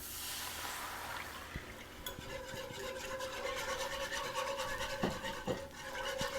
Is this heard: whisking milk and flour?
yes